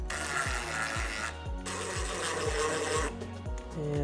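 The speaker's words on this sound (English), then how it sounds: "then you're gonna screw your mounting screws in position so that they're protruding just a" Mounting screws driven into a wooden desk drawer, a steady motorized whir with rhythmic repeating pulses, close and continuous throughout with no talking.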